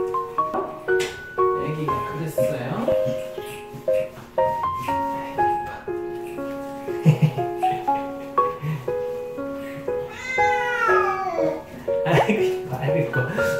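A cat meows during a bath, giving repeated wailing cries mixed with a woman's soothing sing-song voice and splashing water in a small indoor room.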